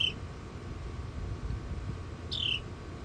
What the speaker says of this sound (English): that's one of the wrens in the background that you hear alerting the other wren